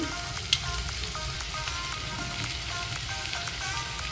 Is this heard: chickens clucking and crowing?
no